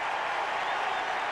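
A ballpark crowd applauds steadily as Cardinals pitcher Woody Williams leaves the mound in a 2002 game against the Astros, a dense, even wash of clapping.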